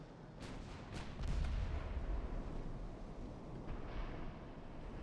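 Warship main guns fire during a naval battle off Gibraltar in the game Ultimate Admiral Dreadnoughts: a few sharp cracks roll into heavy, deep rumbling booms that keep reverberating, with no speech.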